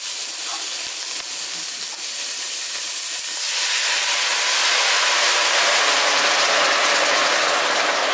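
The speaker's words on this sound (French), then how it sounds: "Je vais rajouter de l'eau tout de suite." Water poured into a very hot cast-iron pan of beef chunks bursts into a loud, broad steaming hiss that swells after a few seconds of quieter sizzling and then holds steady, close and without talk.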